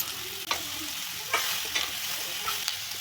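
Chopped ridge gourd sizzles in hot oil with turmeric, garam masala and red chilli powder as a spoon stirs it, giving a steady fry hiss broken by several sharp scraping strokes.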